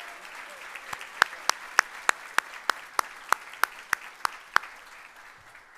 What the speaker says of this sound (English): How about one more round of applause for all?